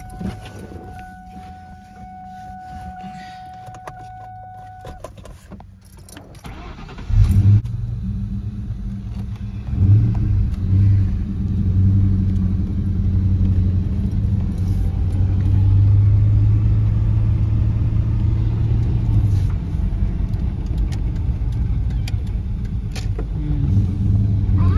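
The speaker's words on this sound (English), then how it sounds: "I was just trying to do a startup video of the Silver GT" A silver Ford Mustang GT starts up about seven seconds in, then settles into a loud, deep rumble with a few throttle blips, close by after a quiet stretch with a faint electronic tone.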